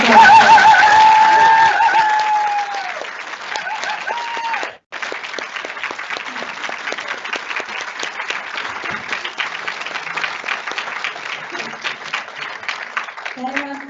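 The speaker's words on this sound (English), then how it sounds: "Let's give her a round of applause." Sustained applause from a public talk's audience, loud and dense with steady clapping throughout, a brief dip midway, and a voice speaking over it at the start.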